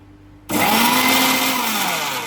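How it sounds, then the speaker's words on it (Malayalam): A mixer grinder grinding spices starts abruptly and whirs loudly at high speed, its motor pitch shifting slightly as it grinds. "അപ്പൊ നമുക്ക് ഒന്ന് മിക്സിയിൽ അടിച്ചെടുക്കാം"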